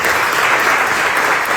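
A church congregation claps for Jesus during a sermon, a loud, dense and continuous wash of applause with no voices audible above it.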